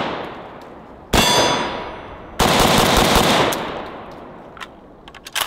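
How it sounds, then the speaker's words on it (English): Two loud bursts of rapid automatic fire from an AK rifle chambered in 5.45, shot outdoors toward a distant hill, each followed by ringing echoes, with faint metallic clinks at the end. "Let's try the 545 AK, see how it does."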